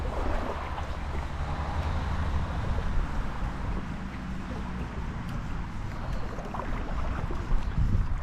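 Strong river current rushing past a wading angler during fly fishing in Ireland, a steady broadband roar of flowing water close by with occasional splashes, no talking.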